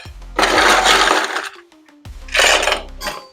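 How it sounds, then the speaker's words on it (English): Ice rattles and clatters into a cocktail glass in two loud bursts separated by a brief pause, each pour crackling sharply with no voices. "fill the cocktail glass with the ice to chill"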